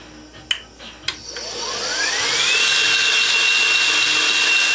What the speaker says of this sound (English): Three grinders, disc, vertical, horizontal, all with one VFD.